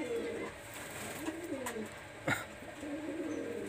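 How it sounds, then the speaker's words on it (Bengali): Pakistani high flyer pigeons cooing, a series of low rolling coos nearby with a brief sharp knock partway through. "কবুতরগুলো খুবই সুন্দর।"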